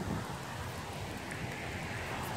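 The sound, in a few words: rain starting outdoors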